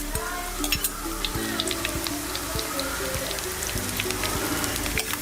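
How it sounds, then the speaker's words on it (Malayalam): Garlic and fennel seeds frying in hot oil for a prawn roast, a close, steady crackling sizzle with a rhythmic spoon tapping against the pan throughout, with no talk. "എണ്ണ ചൂടായി ഇതിലിട്ട് ഒരു ചെറിയൊരു സ്പൂണ് പെരിഞ്ചീരകം ഇട്ടു കൊടുത്ത് പെരിഞ്ചീരകം നല്ലതുപോലെ മൂത്ത് കഴിഞ്ഞ് ഇനി ഇതിലോട്ട് വെളുത്തുള്ളി ഇടുന്നു"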